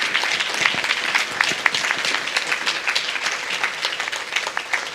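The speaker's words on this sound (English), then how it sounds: "give a round of applause to everybody who participated" An audience at a public law debate applauds the participants with a lively, fairly close round of clapping that holds steady for about five seconds.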